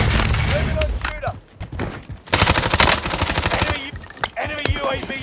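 Rapid automatic gunfire in the Warzone video game, loud close bursts of shots with brief pauses between them, while a voice talks over the shooting.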